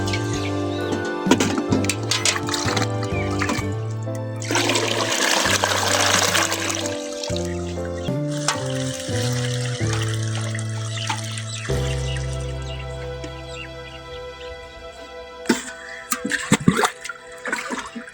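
Liquid rose fertilizer mixture pours and splashes into a large bucket, a steady gurgling stream with shifting pitch as it fills, ending in trickles and drips.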